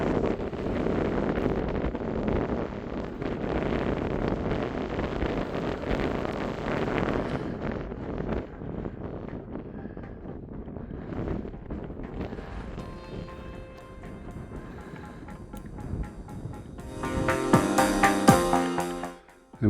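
Wind gusting on a Scottish Corbett mountain, Beinn an Lochain near Rest and be Thankful, roaring steadily and loudly into the microphone, easing briefly midway, then buffeting harder in a final strong gust.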